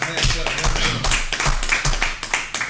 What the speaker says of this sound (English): I paid them to clap right there.